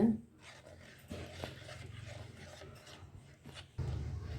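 Soft scraping and rubbing as a spoon stirs curd into salted pearl millet porridge in a pot, gentle and close, with a brief louder swirl near the end.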